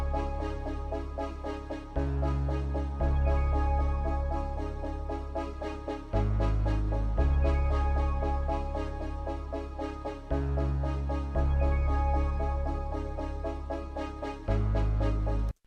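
A dark trap loop with piano, synth, bass and a sparkly top layer repeats in steady bars, the heavy low bass notes dropping in at each phrase and fading out, loud and continuous.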